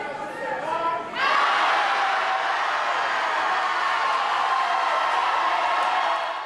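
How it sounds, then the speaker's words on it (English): An auditorium full of opponents of a township supervisor nominee erupts in loud, sustained shouting and jeering against her nomination, a dense roar of many voices that swells suddenly and holds steady. "That is the sound of an auditorium full of Tiffany Henyard opponents rejecting her nomination"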